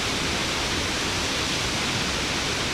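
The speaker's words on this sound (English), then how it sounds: "the waterfall plunges down into the bottom there" In Washington, a waterfall plunges into a pool below a large rock formation, producing a steady, dense, broadband roar that stays constant throughout with no other sounds.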